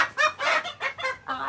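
Purebred hens, White Kelso and Goldenboy Sweater, cluck close by in short, choppy bursts one after another.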